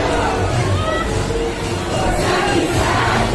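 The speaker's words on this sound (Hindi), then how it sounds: "इधर काफ़ी भीड़ है।" A busy crowd murmurs at an adventure park in Delhi, a dense, loud, continuous babble of many voices, with shouts rising from the mix.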